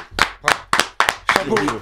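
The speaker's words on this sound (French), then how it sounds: "on l'applaudit" Several people clap in a short burst of about six sharp claps, close and fairly loud, with voices chattering over them.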